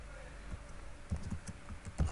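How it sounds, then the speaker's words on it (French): Someone types on a computer keyboard, entering a search into a search bar; a few soft, irregular key taps come close and fairly quiet over a steady background hum. "Et ici dans la barre de recherche on tape Rainmeter"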